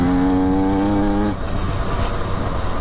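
A KTM 125 SX two-stroke motocross bike engine runs at steady high revs while riding, then the tone drops as the throttle eases, leaving a rougher, fluttering exhaust note.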